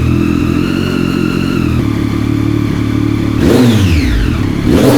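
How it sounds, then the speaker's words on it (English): A Triumph Daytona inline-three motorcycle engine idles with a steady multi-cylinder drone, then revs up sharply in rising and falling bursts, loud and close. "The inline 3 sound is like no other and transcends all mortal worlds."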